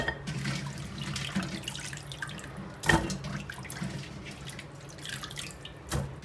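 Cured pork trotters are rinsed under running water in a kitchen sink, making a steady close trickle with splashes and drips and a couple of louder sloshes near the end. No one speaks.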